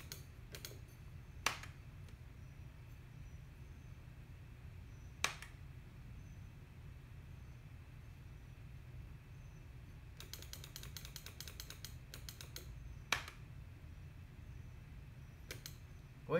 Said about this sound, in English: Why are you using keyboard?